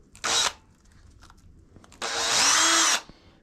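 Power drill whirring in two bursts while spinning a pen against sandpaper during knife handle work, a short burst then a longer one of about a second, loud and close.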